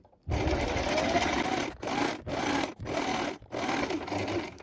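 A sewing machine stitches the back neckline of a top, running steadily and close in four bursts separated by brief pauses.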